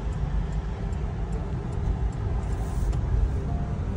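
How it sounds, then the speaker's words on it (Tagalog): Steady road traffic rumbles past in Brisbane, Australia, near the Star Casino in the afternoon, a continuous low wash of car and bus engines with faint ticking over it and no talk. "Ganito ang traffic dito sa Australia"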